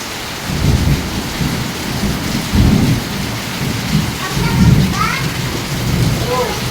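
Heavy rain pours steadily during a thunderstorm, with loud rolling thunder rumbling up close, swelling and easing several times across the downpour.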